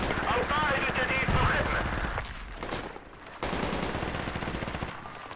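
Gunfire and machine-gun bursts in a military shooter video game, dense rapid shots that pause briefly around the middle before resuming, mixed with voices talking over the fire.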